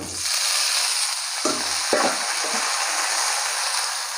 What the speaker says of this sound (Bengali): আমার এই ডাঁটা কলা আলু সব ভেজে রেখেছিলাম এগুলো দিয়ে দেবো